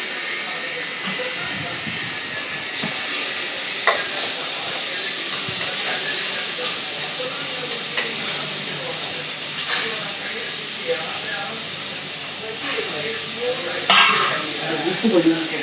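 Tomatoes and onions fry in a pan while being stirred for a Chettinad-style curry, giving a steady broadband hiss with occasional scraping clicks under a voice speaking throughout.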